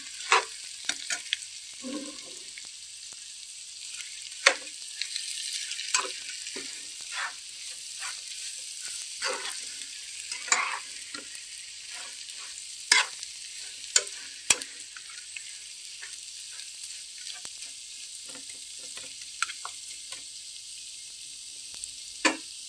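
Chicken fry sizzling in a pan while being stirred, a steady bright hiss with repeated spoon scrapes and clinks scattered throughout, close and without voices.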